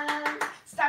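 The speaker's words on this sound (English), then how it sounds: "Clap your hands" Claps during a children's nursery action song, four quick handclaps in a steady rhythm, close and bright, with a brief gap before the last one and no voices over them.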